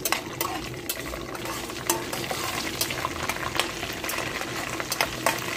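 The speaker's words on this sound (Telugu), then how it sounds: "పోపులు వేగుతున్నాయి, ఇంకా వేగాలండి పోపులు" Tempering spices of cumin, mustard seeds, urad dal, curry leaves and dried chilies crackle and sizzle in cold-pressed oil, a steady frying hiss broken by sharp spoon clinks against the pan.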